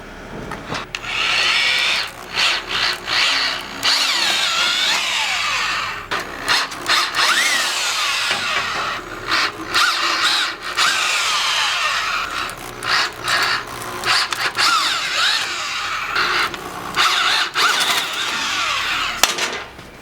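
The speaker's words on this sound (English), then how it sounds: "I'm going to go ahead and drill the 5/16 hole." A DeWalt drill bores a 5/16 hole in wood for a barn door, its high whine starting and stopping in repeated close bursts of drilling with short pauses between.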